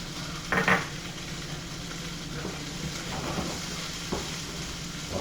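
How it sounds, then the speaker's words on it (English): Squash and onions frying in a pan over medium-high heat, a steady soft sizzle throughout with a few brief stirring scrapes and clatters, close by. "our pan is up on medium-high, starting to get some color on that squash"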